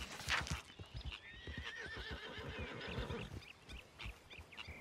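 A horse in Red Dead Redemption 2 lets out a loud whinny while its hooves clop in a steady rhythm, close and clear with no talking.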